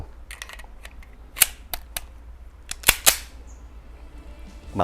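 SIG P220 pistol fired at a shooting range, with several sharp clicky shots spaced irregularly, two standing out louder near the middle, over a quiet background.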